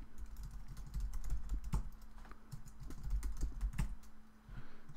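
A password is typed on a computer keyboard in quick bursts of close, crisp key taps with brief pauses, no speech.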